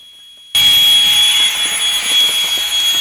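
Noisy light roaring like a small jet, starting abruptly after half a second of quiet with a steady loud whine and rush that holds on without pause.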